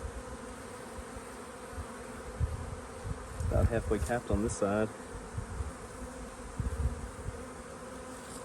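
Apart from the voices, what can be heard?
honeybees buzzing around an open hive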